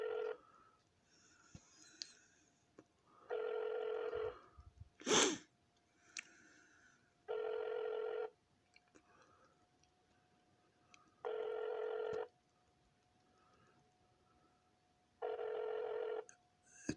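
A phone rings over a speakerphone line with four evenly spaced tones about four seconds apart, clear and moderately loud. No one speaks between the rings.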